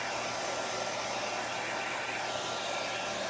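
A hair dryer blows steadily and loud up close, drying a layer of chalk paste on a cookie plate, a constant broadband whoosh with a low motor hum and no pauses.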